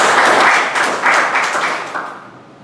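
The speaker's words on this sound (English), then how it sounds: "Please commit to give him a big round of applause." Applause from a crowd, loud and dense at first, then gradually thinning and fading out.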